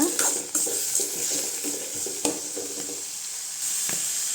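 Pirandai (veld grape) sautés in oil with salt for chutney, a close sizzle broken by stirring scrapes and clicks of a utensil against the pan, with no speech.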